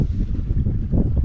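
Wind gusts blow across a lake and buffet a Lanshan tent, a steady loud low rumble of rushing air with no voices.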